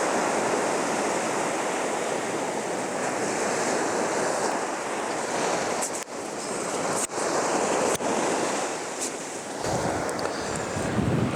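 Sea waves surge and wash onto the beach at Caister-on-sea, a steady, close, broadband roar of surf with a few brief knocks and dips, no voices.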